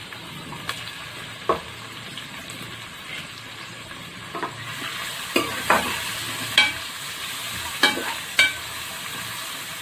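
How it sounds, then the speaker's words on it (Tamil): Crushed shallots or onions drop into hot oil for a country chicken kuzhambu and fry with a steady low sizzle, while a spoon scrapes and stirs the pan in several sharp clinks that grow more frequent toward the end. "இப்போ வந்து நம்ம தட்டி வச்சு இந்த வெங்காயத்தை போட போகிறோம்."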